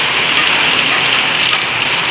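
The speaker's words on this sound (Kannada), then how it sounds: "ಮಳೆ ಬಂತು" Steady, dense rain falls continuously, a close, even hiss of drops striking surfaces with no break and no voices over it.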